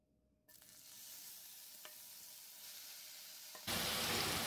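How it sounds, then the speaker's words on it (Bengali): Grated apples frying in ghee on a low flame make a soft, steady sizzle with occasional stirring scrapes, starting after a brief silence and turning louder and hissier toward the end. "চুলা লো ফ্লেমে রেখে ফ্রাই করে নিচ্ছি।"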